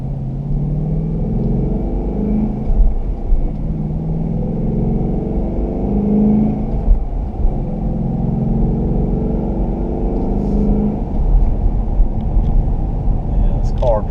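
A 2017 Ford Mustang GT Premium with the Performance Pack driving, a loud, steady engine and road rumble from the cabin with slight swells in revs, while someone talks over it throughout.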